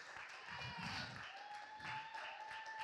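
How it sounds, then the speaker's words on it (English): Church congregation clapping during a Sunday morning service, a moderate wash of applause that swells and dips briefly, with voices mixed in. "Let's give God one a big thunderous applause."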